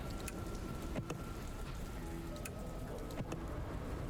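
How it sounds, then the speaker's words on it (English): Steady rain falling in the video game Dustland Delivery, a constant hiss of drops with a few brief crackles, moderately loud and unbroken throughout. "Get some rain real quick."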